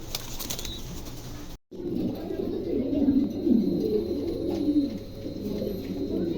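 Pigeons at a wholesale pigeon sale coo in soft, rolling, repeated calls close by. A brief dropout cuts the sound early on, then the throaty cooing continues steadily with faint background chatter.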